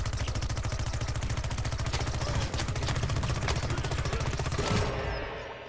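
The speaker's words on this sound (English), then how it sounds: "My plant's got machine guns." Sustained rapid machine-gun fire from a plant in the shooter game Plants vs. Zombies: Battle for Neighborville, a loud, dense, unbroken stream of shots lasting several seconds before cutting off into a short fading tail.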